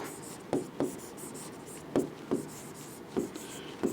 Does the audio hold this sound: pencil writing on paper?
yes